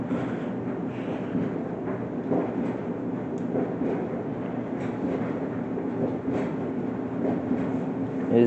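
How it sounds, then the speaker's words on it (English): A Maytag gas dryer runs a small load on low heat automatic dry, giving off a steady, even rumbling drone with faint tumbling clatter throughout and no talking. "hope you guys enjoyed the sound of the Maytag gas dryer"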